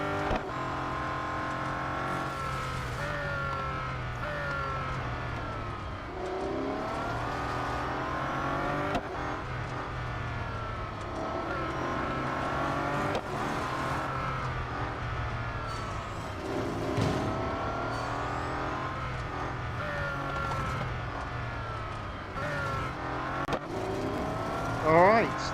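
Race cars roar through a Real Racing 3 event featuring the Bugatti Centodieci, engines revving and shifting continuously with repeated surges as cars overtake, under a steady background of racing noise.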